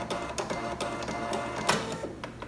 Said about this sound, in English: I'm gonna sew with a straight stitch.